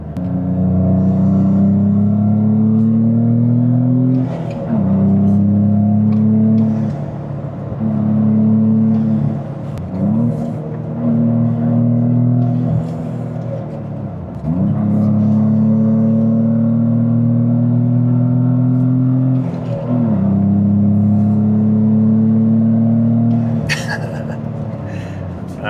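Toyota GR Corolla engine droning and revving as it upshifts and downshifts, moving in and out of boost, with repeated rising pitch sweeps broken by short gear-change dips, heard from inside the car under a voice.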